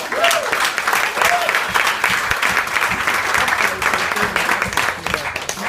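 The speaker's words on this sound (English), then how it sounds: "So please, another big round of applause for Karen" A crowd at an awards ceremony gives a round of applause, with sustained, dense clapping and a few faint voices mixed in underneath.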